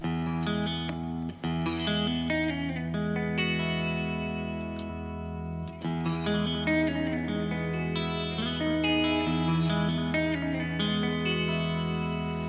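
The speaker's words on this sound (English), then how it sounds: "Bit of spring reverb." An electric guitar plays sustained, slightly distorted chords, drenched in a springy, wobbling reverb that rings out between strums.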